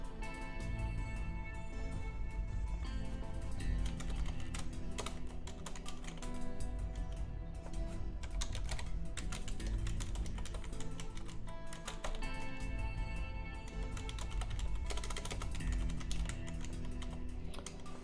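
Fast typing on a computer keyboard, a dense, continuous clatter of key presses at moderate level with no pauses and no voices.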